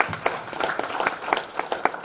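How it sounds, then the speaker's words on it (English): Scattered clapping from a small audience at a Hindutva Paradigm book tour event in Chicago, hand claps sounding irregularly and fairly faint against room noise, with no voices on top. "Please give them a round of applause"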